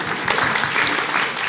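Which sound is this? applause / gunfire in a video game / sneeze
applause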